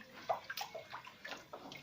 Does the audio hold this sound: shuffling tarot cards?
no